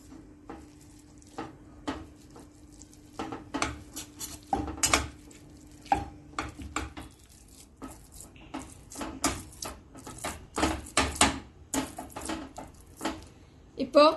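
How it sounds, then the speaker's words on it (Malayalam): Cooked chana dal is mashed with a hand masher in a pot, producing irregular soft thuds and clanks that come faster and louder toward the end over a quiet background hum. "ഞാനിപ്പോൾ ഒരു മാഷർ വെച്ച് ഉടച്ചെടുക്കുന്നത്"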